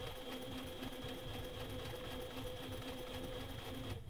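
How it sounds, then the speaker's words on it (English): A stitching machine sews the sole onto LL Bean bison moc-toe boots, a steady continuous mechanical hum with a rapid rhythmic chatter, fairly faint and alone. "locking my stitch in, and then working it forward to go around the corner and then just stitch."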